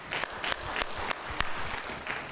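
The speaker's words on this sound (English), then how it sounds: "Give God a hand clap of praise." A church congregation claps in praise, with scattered, irregular hand claps at moderate distance and a faint crowd murmur underneath.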